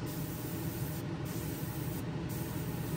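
Gaahleri Ace GHAC-98 airbrush spraying paint for lure painting, a steady close hiss of air that stops briefly twice, with no talking.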